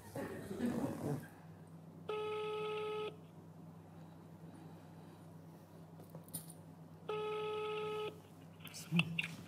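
Two separate long, steady electronic telephone tones sound while a call is being placed to Perm. The line is otherwise quiet with faint clicks, and brief voices are heard at the start.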